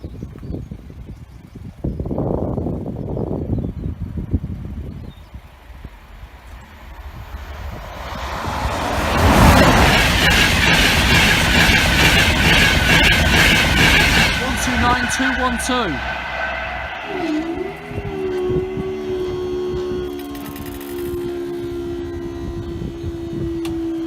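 A train rumbles past loudly at Barnby Road level crossing, building to a roaring wash of noise, then a long high squeal rings out; someone talks over the start.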